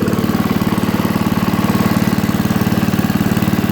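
Wheel Horse Wheel-o-matic 875 hydrostatic riding lawnmower engine runs steadily nearby with a loud, even, rhythmic chug and no one speaking.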